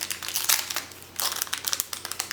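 Paper or plastic wrapping crinkles and rustles as a small mail package holding tiny dimensional stickers is opened. The sound comes in close, busy bursts with short pauses between them, and no voice is heard.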